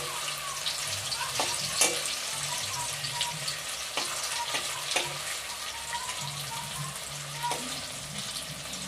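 Moringa (sajane) leaf pakoras fry gently in oil over a low flame, a steady soft sizzle with scattered sharper crackles and pops running through.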